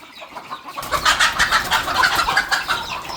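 Free-range desi village chickens cluck and squawk in quick, overlapping bursts as they scurry about nearby, a busy flock sound with no talking.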